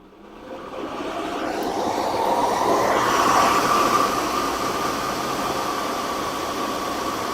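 PC CPU cooler fans spin up under a full 28-thread CPU burner load, a broad airy whoosh that rises over the first seconds and then holds steady and loud, with no talk.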